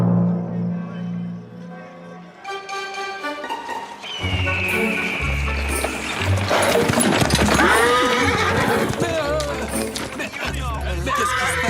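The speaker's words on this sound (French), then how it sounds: "Mais d'où ils sortent ces chevaux?" Animated horses near a hacienda in a Zorro cartoon whinny loudly while hooves clip-clop in a busy rush, mixed with shouting voices and crowd noise.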